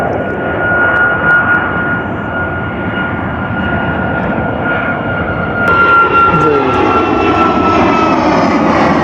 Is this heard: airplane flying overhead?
yes